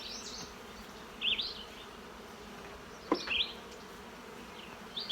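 Honey bees hum around an open nuc hive outdoors, a close, continuous buzzing drone with a few louder passes as individual bees fly near.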